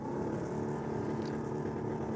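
Drag racing cars, an LX and an LJ, sit on the track at a drag racing day, their engines holding a loud, steady droning rumble close by throughout.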